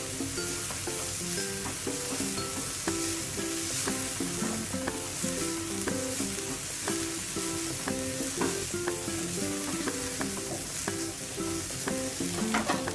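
Carrots being sautéed in a pan give a continuous close sizzle with stirring, heard under steady background music and without speech.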